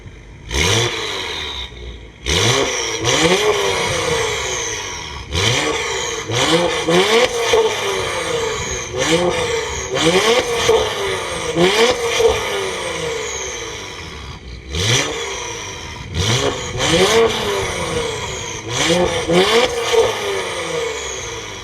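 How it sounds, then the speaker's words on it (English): Acura TLX Type S with a fully catless exhaust and valves open, revving hard in a series of loud, close bursts that rise and fall, separated by short pauses. "let's see how this car sounds with this car fully catless, with the valves open"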